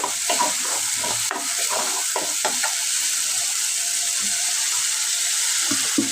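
Ginger, onion and garlic paste sizzles steadily in a pan while being stir-fried for a spicy sarputi fish curry, with close scraping stirs breaking through the constant hiss in the first few seconds.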